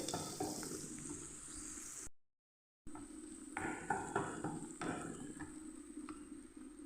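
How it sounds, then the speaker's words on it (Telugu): Frying and stirring in oil for mango pulihora: a soft continuous sizzle with scattered light scrapes and taps from stirring, close but fairly quiet, interrupted by a brief gap of silence. "ఆయిల్ సపరేట్ అయ్యేంత వరకు వేయించుకుందాం, మధ్య మధ్యలో కలుపుకుంటూ"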